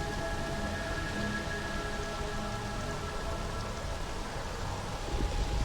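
Rain falling in the space video game Starfield, a steady dense hiss of drops on surfaces that holds evenly through the whole stretch with no talk over it.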